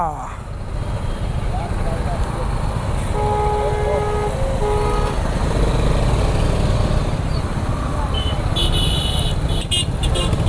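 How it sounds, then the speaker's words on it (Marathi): A bus stuck in heavy traffic on the Pune–Roha road, with a steady loud engine rumble up close and short car horn toots near the end; a voice speaks over the noise. "खूप ट्रॅफिक आहे यात"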